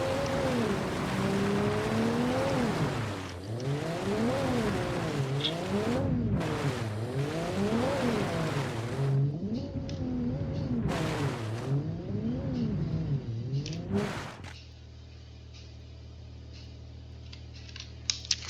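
A Rotar Lux 660 Wisdom luxury car is driven off-road in BeamNG, its simulated engine revving up and down in repeated swoops over a constant drone, with sharp clicks and knocks throughout before the engine settles into a lower, quieter idle near the end.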